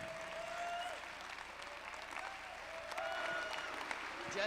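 Conference crowd clapping at a motivational talk, a steady spread of hands at moderate distance under a faint tonal background, with a brief voice or two rising over it.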